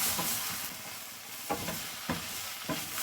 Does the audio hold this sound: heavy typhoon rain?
no